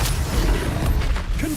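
Repulsor spell cast in Hogwarts Legacy, a dense, loud low-pitched whooshing boom filling the short moment with rumbling force.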